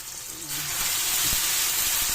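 Bitter gourd (ampalaya) sautéing in a pan with tomato gives a steady, close sizzle and hiss that rises slightly in loudness, with faint stirring clatter underneath and no talk.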